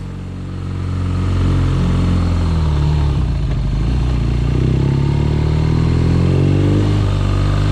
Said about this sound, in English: there was an aftermarket muffler on that bike, so yeah, it sounds good